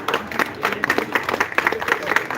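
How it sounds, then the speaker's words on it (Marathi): An audience at an award and felicitation ceremony in Latur claps in quick, uneven bursts, with the applause loud and close and voices mixed in underneath. "टाळ्यांचा गडगडाट"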